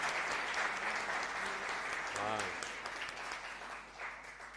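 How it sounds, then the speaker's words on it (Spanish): A congregation at a Sunday Mass claps for José, a sustained burst of applause in a reverberant church that fades slightly toward the end, with brief voices mixed into the clapping. "vamos a darle un fuerte aplauso a José"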